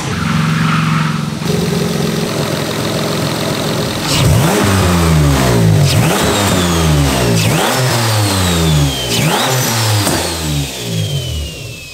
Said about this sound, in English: Never been good at explaining exhaust note, but definitely a lot cleaner, a little bit quieter, and a little bit more deeper.